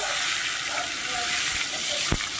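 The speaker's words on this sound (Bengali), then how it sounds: "টমেটোটা দিয়ে একটু ভেজে নেব" Chopped tomato frying in hot oil in a pan, a steady close sizzling hiss with a brief louder crackle near the end.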